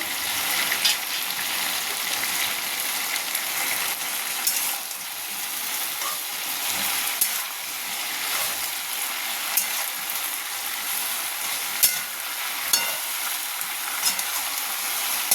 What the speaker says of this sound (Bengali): এখন এর মধ্যে আমি দিয়ে দেবো লাউ শাকগুলো কেটে রাখা।